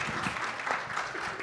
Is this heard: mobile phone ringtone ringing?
no